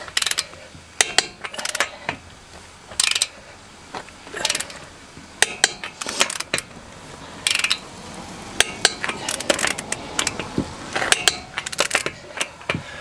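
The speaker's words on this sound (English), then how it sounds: "You don't have a ratcheting torque wrench, you are missing out." A ratcheting torque wrench clicks in sharp irregular bursts, close and fairly loud, with brief gaps between runs and no talking.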